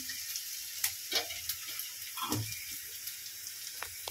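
Ginger garlic paste sizzling in a hot pan, a steady crackling hiss broken by scattered stirring scrapes and small pops, close and fairly loud with no talk.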